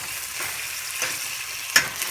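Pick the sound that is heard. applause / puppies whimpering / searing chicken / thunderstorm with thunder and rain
searing chicken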